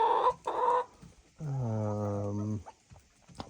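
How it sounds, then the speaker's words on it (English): Hens in a backyard chicken run of eleven birds, including Australorps, cluck in short bursts, then one lets out a drawn-out, strongly pitched squawk lasting about a second before quieter clucks return; close by and alone, no talk. "And we have 11 chickens."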